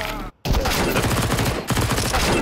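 Rapid gunfire from War Thunder, a dense sustained burst of firing that drops out briefly, then resumes loud and continuous with no voice over it.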